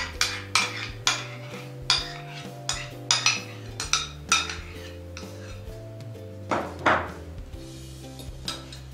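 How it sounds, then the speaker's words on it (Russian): A spoon stirs a salmon rillettes mixture of fish with butter and oil in a bowl, tapping and scraping against the dish in a repeated clinking rhythm, close and fairly loud, with a steady hum underneath. "Все хорошо перемешиваем."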